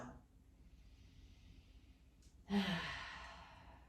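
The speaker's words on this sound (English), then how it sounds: "Nice deep breaths in and out through your nose." A slow, deep breath drawn in through the nose, faint and airy, is followed by a louder, breathy exhale during a gentle yoga session, heard close and alone.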